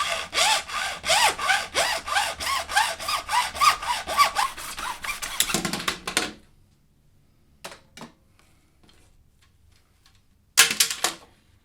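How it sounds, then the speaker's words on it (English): A hand saw cuts slowly through a light tube guided by a mitre box, a steady back-and-forth rasp for about six seconds, then silence broken by a few faint knocks and one last short burst of sawing. "Use a mitre box to help guide the saw blade and cut nice and slowly."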